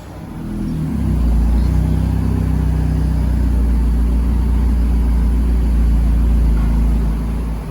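A 2019 Toyota Camry with a freshly installed Magnaflow full catback exhaust and cut resonators idles with a deep, even, moderately loud rumble that settles in after a second and holds steady.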